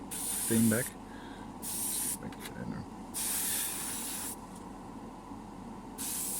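Evolution airbrush with a 0.2 nozzle spraying pre-thinned lacquer paint, heard as a steady hiss in four bursts of about one second each, separated by short pauses, close and fairly loud.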